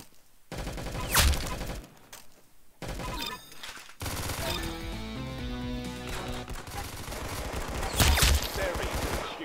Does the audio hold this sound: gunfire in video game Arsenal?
yes